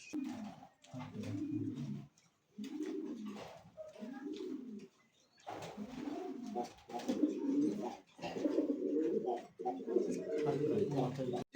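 Pigeons coo in soft, repeated low phrases with brief pauses between, close by and steady.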